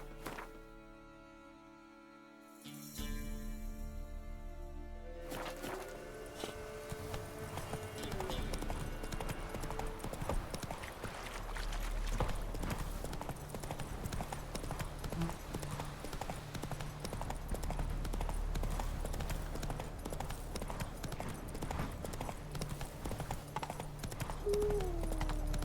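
Roach the horse galloping in The Witcher 3, rhythmic clip-clop hoofbeats running steadily for a long stretch after a quiet opening, with faint game ambience and occasional soft voices underneath.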